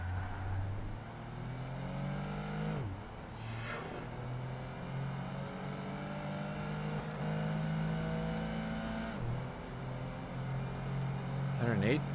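Car with active aero driven in a racing video game, its engine droning and revving through repeated gear shifts, with pitch rising and dropping, under someone talking throughout.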